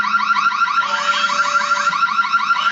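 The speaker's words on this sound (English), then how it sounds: "because I heard this alarm going off" A car alarm blares loud and near in a rapid repeating electronic warble, a continuous siren-like tone cycling quickly, heard alone.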